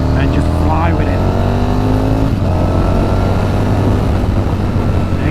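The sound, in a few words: Aprilia Falco motorcycle accelerating hard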